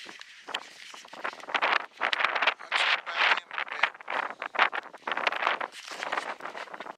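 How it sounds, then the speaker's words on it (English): Gusty wind on an ice-fishing trip in Pennsylvania buffets the microphone in loud, uneven bursts, roaring and rumbling throughout with no talking. "boy, is it windy."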